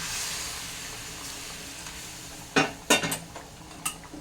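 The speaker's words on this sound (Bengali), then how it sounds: "কফি মগের এক মগ জল আমি ফুটিয়ে নিয়েছি সেটা আমি এখানে দিয়ে দিলাম" A mug of boiled water is poured into sizzling chicken curry in a pan, with a quiet steady sizzle and then a few loud bursts of hissing and splashing, heard close and without talking.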